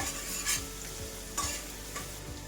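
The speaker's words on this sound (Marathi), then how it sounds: "तेल गरम झालंय, ठेचा टाकून घेऊया। ठेचा टाकला की कमी गॅसवर मिनिटभर परतून घ्यायचं" Crushed green chili thecha sautéing in hot oil in a pan on low heat, a steady close sizzle and crackle with a few brief stirring scrapes, no talking.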